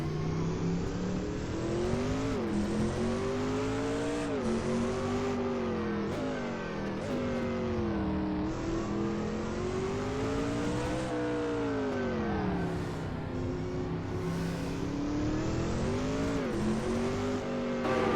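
A race car engine roars steadily at high revs during a 2000 Grand-Am series race at Phoenix, Mustang versus Viper, rising and falling with upshifts and downshifts throughout, loud and close as if onboard.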